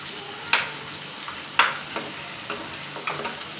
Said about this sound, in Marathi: कांदा फ्राय होताना थोडासा कमी गॅस करून फ्राय होऊ द्यायचा, म्हणजे करपत नाही आहे.